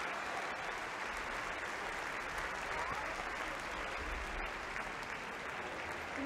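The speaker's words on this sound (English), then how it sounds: "sympathetic applause from the stands." Steady applause from a large crowd in a stadium at a women's football match as an injured player is treated, a broad continuous clapping wash at moderate distance, with no talk standing out.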